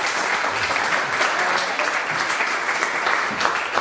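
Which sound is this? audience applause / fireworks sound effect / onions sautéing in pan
audience applause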